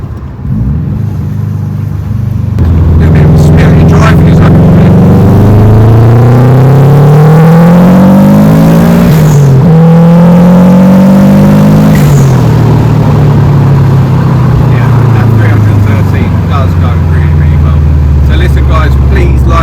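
A 1990s or 2000s car engine idles, then revs and accelerates through several gear changes, rising and falling in pitch close to the microphone, with a voice talking over it at times.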